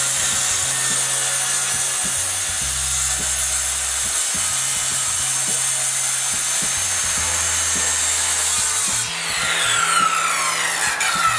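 Wooden roof joists being sawn through during second-floor renovation framing, a steady rasping cut running almost continuously for about eleven seconds, close and loud, with a brief change in tone near the end.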